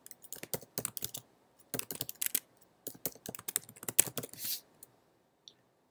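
Close fast typing on a computer keyboard, several bursts of rapid clacking keystrokes separated by short pauses, ending in a couple of isolated key clicks, with no speech.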